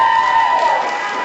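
An audience at a political party chair forum cheers and applauds, a loud, sustained swell of clapping and whoops that slowly eases off.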